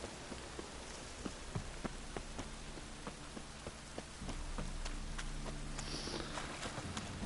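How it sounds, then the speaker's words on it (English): Steady rain in the video game The Witcher 3: Wild Hunt falls with scattered drops ticking and tapping, growing slightly heavier toward the end, with no voices. "And it's raining again."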